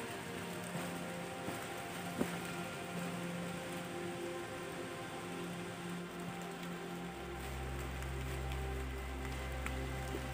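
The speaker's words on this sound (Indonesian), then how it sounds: "Rintik air hujan pun" Soft, steady patter of light rain on a surface while hiking Mount Pangrango, continuous and fairly quiet, with a low hum growing beneath it toward the end.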